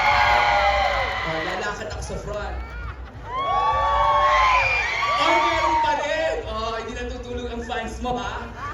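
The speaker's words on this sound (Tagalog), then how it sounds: "At hindi tumitigil ang kakasigaw." Crowd at a Philippine festival in Yoyogi Park, Tokyo, whooping, cheering and shouting for contestants, with overlapping high excited voices in bursts that swell and keep going.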